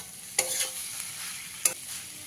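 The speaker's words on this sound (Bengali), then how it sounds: "এইভাবে মশলাগুলো দিয়ে সবজিটাকে আমি 2 থেকে 3 মিনিট ভালো করে ভেজে নেব।" Vegetables frying with spices in a pan over medium flame, a quiet steady sizzle with two brief scrapes of a spatula, close and without speech.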